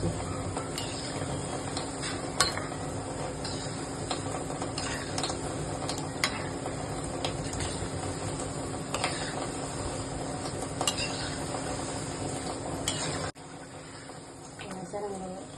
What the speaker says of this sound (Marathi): असे सगळे मी तळून घेते